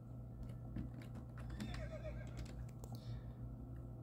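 A North Swedish horse lets out a neigh amid faint clip-clopping hooves and light clicking, quiet and somewhat distant over a low background hum.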